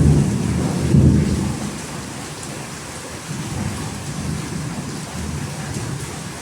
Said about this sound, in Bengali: কি বৃষ্টি ঝড়